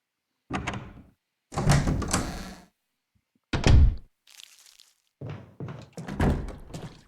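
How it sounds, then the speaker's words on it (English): Door in the Resident Evil REmake video game heard as a series of heavy thunks and scraping opening sounds, several separate bursts with silent gaps between them, fairly loud and close. "I don't know if you guys heard that door noise, but that was a zombie coming in outside"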